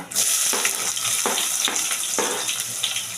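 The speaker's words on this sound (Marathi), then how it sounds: "हे छान तेलात असे फ्राय करून घेते दोन सेकंद फक्त" Ingredients frying in hot oil for a quick shrimp biryani masala, a loud continuous sizzle with periodic bursts as the food is stirred, close up and without talk.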